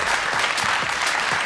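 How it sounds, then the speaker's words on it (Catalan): Audience applause for a guest on a talk show studio set: steady dense clapping from a crowd, fairly loud and continuous throughout with no voices over it. "Aplaudiment per Jordi Graupera."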